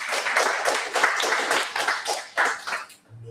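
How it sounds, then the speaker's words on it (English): A small audience at a JavaScript meetup in Warsaw claps for a few seconds before a conference talk. The individual claps are distinct and uneven, and the sound fades out quickly. "another round of applause, please"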